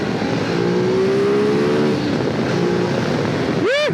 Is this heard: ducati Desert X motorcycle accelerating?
yes